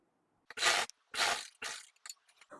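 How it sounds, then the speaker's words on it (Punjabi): A sewing machine handwheel turned by hand, giving three separate mechanical whirring, ratcheting bursts followed by a few softer clicks, close and quiet with no talking. "ਇੱਥੋਂ ਹੀ ਆਪਾਂ ਇਦਾਂ ਘੁਮਾ ਲੈਣੀ ਆ ਮਸ਼ੀਨ"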